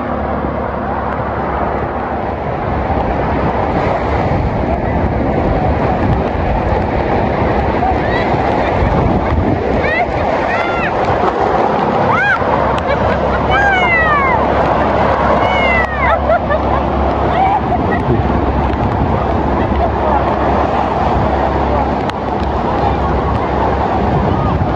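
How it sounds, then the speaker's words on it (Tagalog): Waves crash and water rushes in a steady, loud roar that never lets up, with wind buffeting the microphone and voices faintly audible beneath. "Tara, makinig tayo sa hampas ng tubig."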